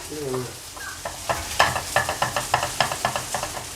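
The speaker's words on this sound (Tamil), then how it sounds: "இதை வந்து லைட்டாக இந்த மாதிரி மேஷ் பண்ணி வச்சுக்கிறேன்" Snack stuffing is mashed in a hot pan, a steady run of rhythmic scraping taps from a spoon or masher over a soft sizzle, close and fairly loud, with no voices.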